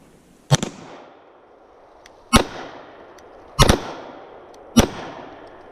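Four sharp pistol shots from a Magnum Research MR9 being bump fired, loud and close, each crack followed by a short ringing echo, spaced irregularly about a second apart.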